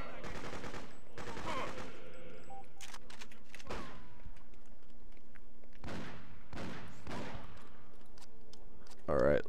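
Gunfire from the video game Freedom Fighters comes in several sharp bursts spread across the stretch, with quieter gaps between them and a brief louder sound right at the end.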